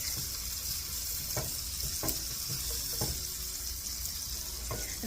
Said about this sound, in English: we're just going to let all these things cook down a little bit more in that bacon grease